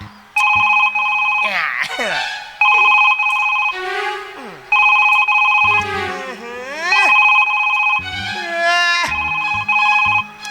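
A telephone rings in repeated electronic bursts, each a bright warbling tone followed by a short pause, loud and close.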